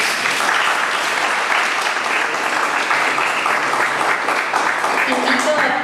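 Audience at a civil procedure law lecture gives a loud, sustained round of applause that fills the room evenly from start to finish.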